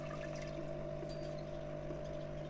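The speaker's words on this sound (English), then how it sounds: "As you can clearly see, that is spitting water out of the nozzle." An aquarium filter nozzle spits water steadily into a fish tank, making a continuous low splashing trickle over a constant pump hum, close and even throughout.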